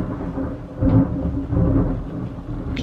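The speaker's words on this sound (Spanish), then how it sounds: "El tiempo está loquísimo y no para de tronar, diluviar" Thunder from a nearby storm during heavy rain: deep rolling rumbles swell and fade in two or three broad waves, close and fairly loud, with no voices over them.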